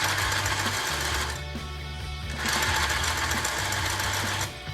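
A sewing machine stitches a straight line through fabric at slow speed, running in two close, rapid mechanical bursts with a short quieter pause between them.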